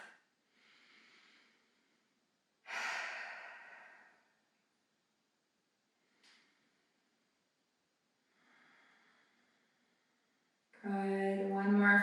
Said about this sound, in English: one more full breath here